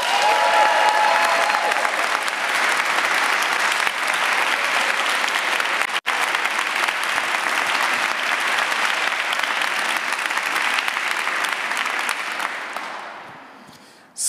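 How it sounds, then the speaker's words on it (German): Sustained, loud applause from an audience at a poetry slam, a dense steady roar of clapping lasting many seconds before fading out at the end. "Applaudiert bitte jetzt!"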